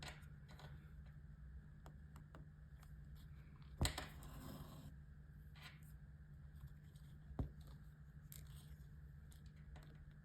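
Scissors snipping embroidery floss for cross-stitch: two sharp, isolated cuts a few seconds apart, close and crisp against a quiet room with a low steady hum.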